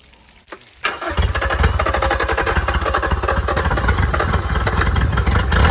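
A 2001 Honda B90 outboard motor starts after a few quiet moments. After a brief crank it catches and settles into a loud, steady, rapid chugging idle close by.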